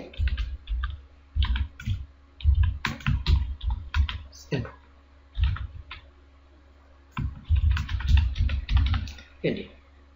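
A computer keyboard clacks in quick close bursts while C++ code is written, pausing briefly between runs of keystrokes.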